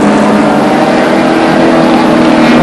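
A heavy Chrysler Valiant racing car engine roars loud and steady, a dense mechanical drone filling the whole moment, at an Australian motor race at Oran Park.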